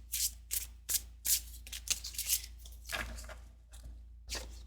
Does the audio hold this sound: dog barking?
no